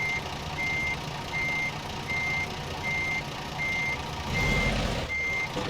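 A truck in American Truck Simulator reverses to pick up a trailer in a tight spot, its backup alarm beeping steadily about eight times at an even rhythm over a low engine hum, with a brief rumble near the end.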